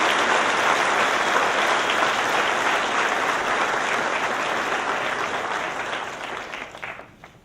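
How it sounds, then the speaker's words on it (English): A graduation ceremony crowd gives Rachel loud, sustained applause, a thick wash of many hands clapping together that thins and fades away over the final seconds. "just give a round of applause for her"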